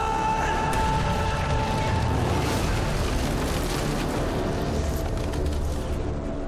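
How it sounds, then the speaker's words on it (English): A grenade blast from a Gotham TV trailer, a loud, dense boom that stays heavy and rumbling across the whole stretch, thick with low-end roar and debris-like crackle under faint voices. "Grenade! Run!"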